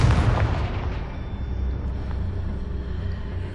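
Confringo fire spell from Hogwarts Legacy bursting in a loud, booming explosion that starts strong and rolls into a long, rumbling decay, with no voices over it.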